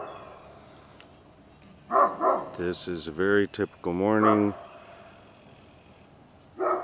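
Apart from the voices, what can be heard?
Great Pyrenees dogs barking in the morning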